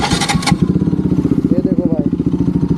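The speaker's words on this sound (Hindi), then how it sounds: "ये है RS 200 की एग्जॉस्ट का साउंड।" A Bajaj Pulsar RS 200 motorcycle with a loud SC Project aftermarket exhaust blips hard, then settles into a fast, rhythmic, throbbing idle-rev pattern up close, with a voice speaking briefly over it.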